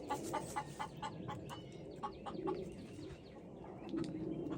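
Lavender Orpington chickens cluck softly around a coop where wild yard greens are scattered, quick clustered clucks early, then quieter murmuring, faint and somewhat distant, with no talk.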